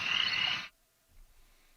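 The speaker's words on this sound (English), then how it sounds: "You don't play frogs and like running water through a stream." A recording of frogs croaking by a running stream plays as a dense, buzzing chorus for under a second, then cuts off abruptly into near silence with a faint low rumble.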